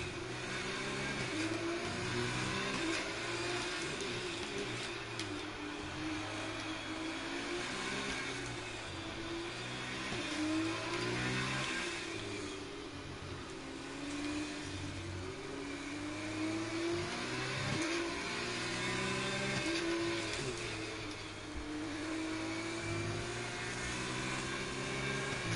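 A simulated F2 race car at the Singapore circuit screams through repeated rising and falling revs, with gear shifts and short lifts. The engine stays loud and close for the whole stretch, with no voices.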